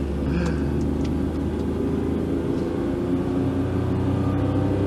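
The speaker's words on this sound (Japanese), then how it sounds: "軽自動車はこのベタ踏みがいいんですよ" Daihatsu Mira Gino L700S kei car with a five-speed manual, held at full throttle on a mountain road, its engine droning steadily and loudly from inside the cabin, a constant low rumble with no talk.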